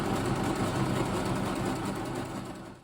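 A sewing machine runs steadily as it stitches along a kimono sleeve, a continuous mechanical whir and low rumble sounding close and fairly loud, with no talk, easing slightly toward the end.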